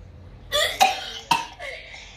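Several sharp coughs close by, three or four bursts spaced irregularly, with no talking.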